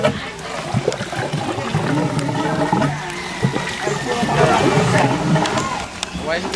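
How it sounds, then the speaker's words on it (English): Water pumped through an aquaponics system gurgles and splashes steadily into a tank, with someone talking over the bubbling flow. "the water, you can see, is gurgling here and it's dumping into here."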